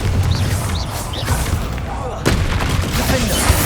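Bombarda and Confringo blasting spells cast in Hogwarts Legacy, a PS5 video game, giving booming, crackling impacts over busy game background, with a sharper burst partway through.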